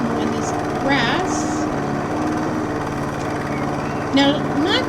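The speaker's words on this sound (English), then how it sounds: "Finish mowing this grass." A lawn mower engine drones steadily while cutting grass in House Flipper, a constant buzzing hum with small chirps over it throughout.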